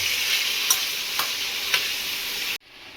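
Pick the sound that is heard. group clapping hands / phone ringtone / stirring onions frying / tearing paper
stirring onions frying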